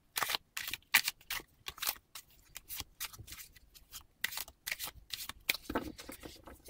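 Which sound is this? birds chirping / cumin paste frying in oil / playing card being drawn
playing card being drawn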